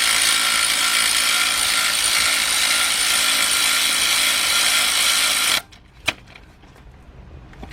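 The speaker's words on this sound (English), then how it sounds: "I'm gonna start off with my 15mm shallow 3/8 drive and my cordless 3/8 drive ratchet. Tighten this one up." A cordless 3/8 drive ratchet with a 15mm shallow socket tightens a bolt on a 2005 Cadillac CTS 3.6 engine, a loud steady mechanical whir running continuously for several seconds, then cutting off, followed by a single sharp click and quiet.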